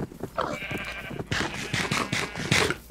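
Sheep on a farm in Minecraft bleat several times, with nasal, wavering calls close by, overlapping with soft footsteps and game ambience.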